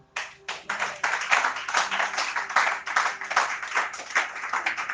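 A church congregation claps in a fast, steady rhythm to acclaim Jesus, with dense, loud, even hand claps continuing throughout.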